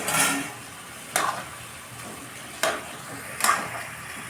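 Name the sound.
sautéing rice and red lentils with green chilli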